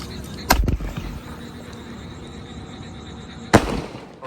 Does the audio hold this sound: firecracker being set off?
yes